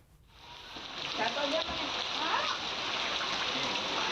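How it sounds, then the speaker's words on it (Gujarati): The flooded Fulku river at Kalavad surges as a rushing torrent, a continuous hissing roar of fast water that swells in over the first second and holds steady. "કાલાવડની ફુલકુ નદીમાં પૂર આવ્યું અને ધસમસતો પ્રવાહ વહેતો જોઈ શકાય છે"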